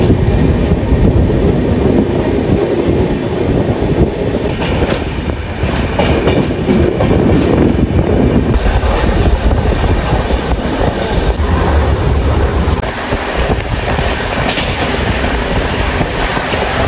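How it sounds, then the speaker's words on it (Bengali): A train pulls out of Bardhaman Junction railway station, its wheels clattering over the rail joints in a loud, continuous rumble with a brief high squeal near the end. "বন্ধুরা আমাদের train Bardhaman junction railway station থেকে ছেড়ে দিল"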